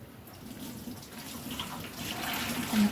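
Water squeezed from a cloth of fresh homemade paneer trickles and splashes softly close by, a gentle continuous flow that grows a little louder toward the end.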